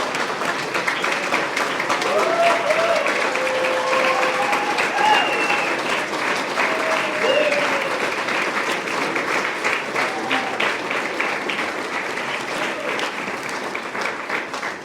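Audience at a Tampa athletics Hall of Fame ceremony applauds its inductees, with long steady clapping and faint voices and whistles mixed in.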